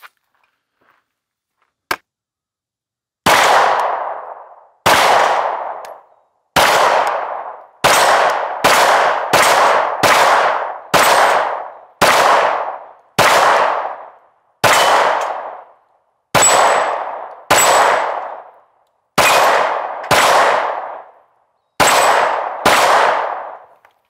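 IWI Masada pistol firing Federal 115 grain rounds at targets: about fifteen loud, sharp shots, first spaced apart and then in quicker irregular strings, each ringing out briefly outdoors, with no talking.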